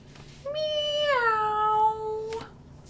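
A voice playfully imitates a cat's meow for a storybook dog character, one long drawn-out meow with a falling pitch, close and clear, standing alone without other talk.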